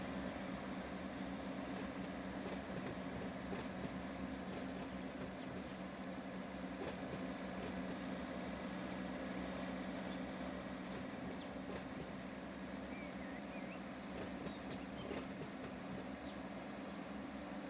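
A freight train rolling in the Run 8 train simulator game during a yard transfer, a continuous low rumble with faint squeals and clanks, steady and fairly quiet with no talk.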